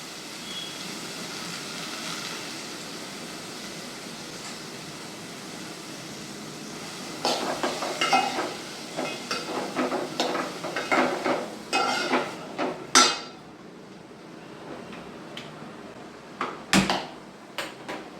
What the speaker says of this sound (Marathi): तर तुम्ही बघू शकता मी हे मिक्सचर जे केलंय त्यामध्ये मी भाजी ही जी कापलेली आहे ती ऍड करते